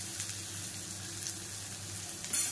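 Onion frying in a pan with roasting garlic for a dry prawn and brinjal masala: a soft, steady sizzling hiss at low volume, with a brief clatter near the end.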